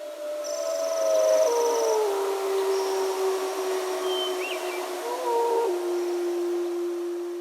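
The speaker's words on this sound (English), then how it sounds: "immersed in wolf howls." Wolves howling in the wild, several long overlapping wavering howls of different pitches rising and sliding, sustained and fairly clear over a quiet background with no talking.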